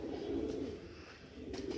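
An older male breeding pigeon coos in a low, steady murmur throughout, close by and moderately quiet, with faint ambient noise around it.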